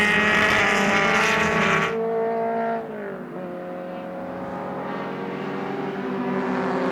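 Production race cars under 2.5 litres race on the track at Sonoma during a speed festival. Loud engines roar and drone past, and one car's note drops as it fades, while others hum on steadily.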